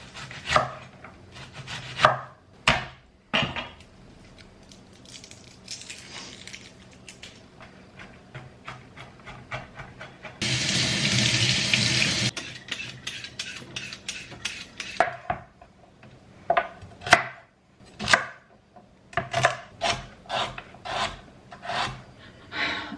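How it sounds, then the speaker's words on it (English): An onion, garlic cloves, carrots and celery sticks are chopped for bolognese: sharp knife strikes on a board in uneven bursts, with a sustained rasping scrape midway. It is close and clear, with no speech. "once everything's chopped up, I used an onion, 4 garlic cloves, 2 carrots, and 2 celery sticks."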